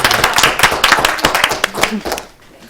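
Brief, close clapping from a small group at a village board meeting, a couple of seconds of uneven hand claps mixed with voices, tapering off quickly.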